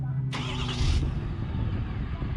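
A Ford F-250 Super Duty pickup with the 6.7L diesel cranks briefly and catches, then settles into a low, quiet idle that continues steadily close by.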